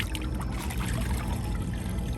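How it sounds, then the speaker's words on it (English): Rinseless car wash solution is poured onto a towel, a close, continuous liquid splash and trickle that holds steady for a couple of seconds. "pour some more rinseless wash all over it"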